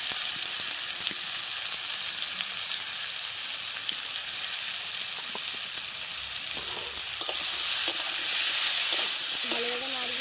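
Kohlrabi and potato frying in a pan with salt, turmeric and a cumin-chilli paste: a continuous close sizzle with soft stirring scrapes, with no one talking.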